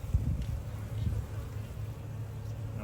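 Honey bees buzzing at a smoked hive during an inspection, a close, fairly faint hum with brief louder passes, no talk.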